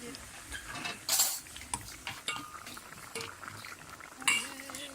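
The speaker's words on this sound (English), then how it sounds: "Stir it up." Food stirred in a pan at a vegan cooking class in Bali gives soft scraping and clinking of utensil on cookware, with a few sharper metallic clinks, fairly quiet, and faint voices nearby.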